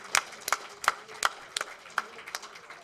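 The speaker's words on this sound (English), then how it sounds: "Give them a big hand." Scattered applause at a golden jubilee celebration for a 1971 batch, a handful of distinct claps in a loose rhythm, moderately close and fairly thin, as from a small group.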